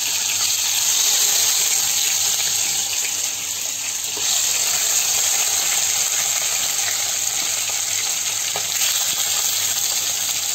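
Hilsa fish with roe sizzles in hot frying oil, a loud steady hiss and crackle with occasional sharper spits, continuous and close, with no talking.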